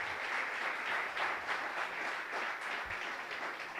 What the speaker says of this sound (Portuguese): Você pode aplaudir ao Senhor por isso, amém?